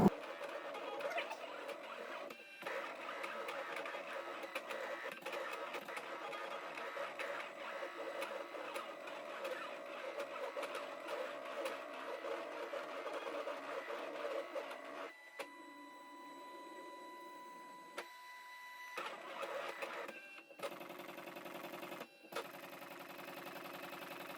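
A Brother ScanNCut cutting machine, an older and noisier model than the DX series, runs with a steady mechanical whir and buzz for a long stretch, then shifts to lighter, intermittent motor sounds near the end.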